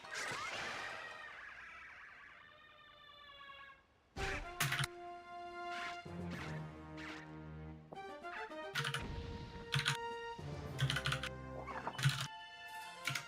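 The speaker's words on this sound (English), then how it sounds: "sorry if you hear me typing" Rapid typing on a computer keyboard, clicking keystrokes in bursts and clusters, close and fairly loud, with no one talking.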